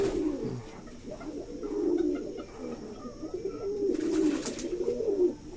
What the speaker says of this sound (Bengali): নতুন সাদা লক্কার মেলটাই যে ডাকছে।